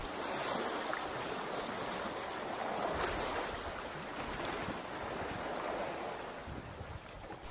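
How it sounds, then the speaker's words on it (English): Sea water surging against and over a seawall on the shore at Shoebury Garrison, Southend, heard as a steady, broadband rushing wash with wind noise throughout, continuous and fairly close, with no voices. "The water now has started to come onto the seawall"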